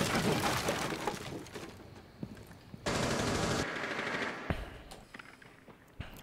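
Gunfire in the tactical shooter Rainbow Six Siege: a fast burst of automatic fire at the start, a sustained loud volley near three seconds, and scattered single cracks after. Some shots sound close and some distant.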